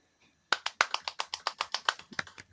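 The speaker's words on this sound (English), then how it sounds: "Can I get applause, please?" Applause requested by a podcast presenter, heard as a single person's crisp rhythmic clapping, about fifteen evenly spaced close claps starting after a brief quiet moment.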